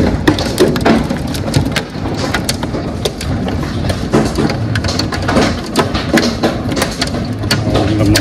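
A hail storm pounds down as a loud, dense barrage of hard impacts, with sharp clatters and cracks scattered through a steady roar of pelting ice and rain, close and continuous throughout.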